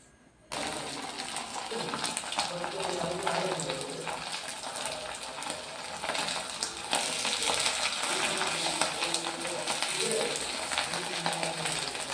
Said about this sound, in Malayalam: ഇനി നമുക്ക് ഉണക്കമീൻ പൊരിച്ചെടുക്കാം